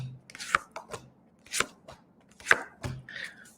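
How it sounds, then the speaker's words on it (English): Tarot cards shuffled by hand during a live reading give a series of sharp, close snaps and riffling taps in irregular bursts, with short pauses between them. "Okay, giving these a really good shuffle,"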